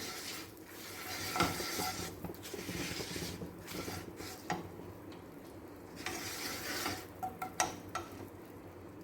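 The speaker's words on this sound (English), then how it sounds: "You can see it sizzling." Food sizzles and crackles in a hot frying pan seasoned with black pepper, a close, steady hiss broken by occasional stirring scrapes and pops, with no talking.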